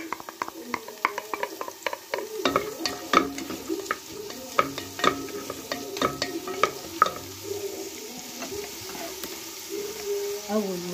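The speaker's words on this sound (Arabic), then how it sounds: "اول ما يسخنوا هننزل بالبصل اهو زي ما انتم شايفين كده اهو" Chopped onions sizzling in two spoonfuls of hot oil in a pan, with a steady frying hiss broken by repeated scraping and clinking strokes of a spoon stirring them, close up and with no voices.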